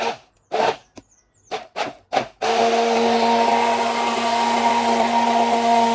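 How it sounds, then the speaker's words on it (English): A Moulinex Steelforce DD883D10 hand blender gives a few short motor bursts, then runs steadily with a loud, even whirring drone up close. "we have the motor and then we have the hand blender. Let's hear how that sounds."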